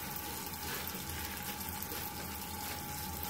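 Tap water runs steadily into a sink during a handwashing demonstration for children, a continuous broadband hiss and splash that stays even and close throughout with no talk.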